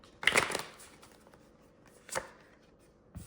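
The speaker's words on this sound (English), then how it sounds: "So we'll do one more shuffle." Tarot cards being shuffled: a quick riffling burst, then two shorter shuffling flicks spaced apart in a quiet room.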